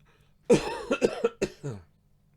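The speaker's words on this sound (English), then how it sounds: "Cough coming." A single person coughs during a 10-ball pool championship match, a short burst of a few rough, throaty coughs with brief gaps between them, close and clear against near silence.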